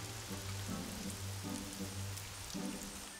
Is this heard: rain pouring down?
yes